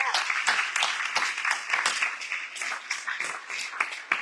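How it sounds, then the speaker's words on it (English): An audience at a panel event bursts into continuous applause, dense overlapping hand claps with some cheering, heard from within the crowd and holding steady throughout. "So let's hear a cheer for our state for that."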